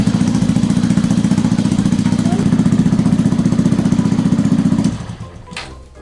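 A 2017 Honda Grom SF motorcycle idles loud and close with a steady, rapid mechanical chug, then shuts off near the end, leaving faint clatter and room noise.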